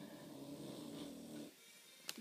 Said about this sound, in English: that snoring, if you heard it, is my little dog, Hank, and he's my littlest dog.